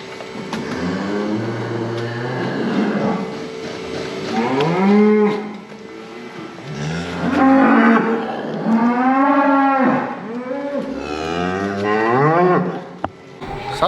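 Suckler cow mooing after being let out of a crush following a hoof restoration, a series of long, loud, drawn-out moos close by with short pauses between calls.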